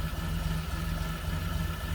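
A 1934 Chevrolet Master five-window coupe engine with a single carburetor idles quietly and smoothly, a steady low hum with no revving, heard up close.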